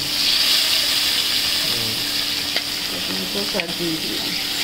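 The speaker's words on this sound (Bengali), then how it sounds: "এখন পরপর আর মাছগুলো দিয়ে দেওয়া হচ্ছে" Pieces of catla fish frying in hot oil in a pan give a steady, close sizzle and crackle throughout, with a few small clinks of a utensil near the end.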